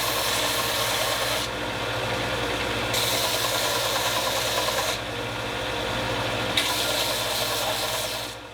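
A belt sander runs steadily and loudly, grinding the edges of a 3D printed mold, its continuous abrasive roar shifting in brightness as the part is pressed and lifted, with no talking.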